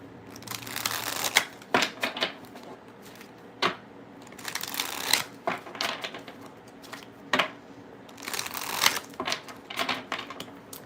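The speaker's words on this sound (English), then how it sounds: "Gotta shuffle." A tarot deck is shuffled in repeated bursts of riffling and card slaps, close and crisp, separated by short pauses and quieter handling, with a faint room hum beneath.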